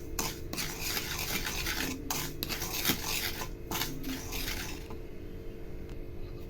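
Sugar stirred in a pan as it melts toward caramel, a steady scraping and rubbing of utensil against metal with rhythmic strokes, close and continuous, easing off near the end.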